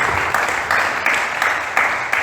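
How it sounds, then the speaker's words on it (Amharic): A church congregation claps together during an Amharic sermon, a steady wash of applause with a few louder swells, close and filling the room, no voices over it. "አጨብጭቡ።"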